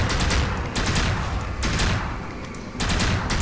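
Rapid gunfire in the video game NecroVisioN, loud bursts of repeated shots in dense clusters with short gaps between volleys, no talk over them.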